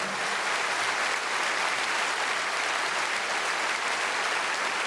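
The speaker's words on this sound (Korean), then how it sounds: "환영의 박수 부탁드리겠습니다." A large gathering at a church general assembly ecumenical worship service gives welcoming applause for the guests, a continuous, uniform wash of many hands clapping at moderate level throughout.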